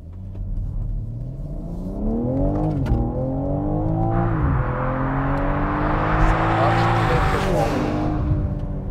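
A BMW M3 Touring's inline six-cylinder engine revs repeatedly through rising gear pulls, loud and close, with shifts between climbing notes and a sharp roar building toward the end.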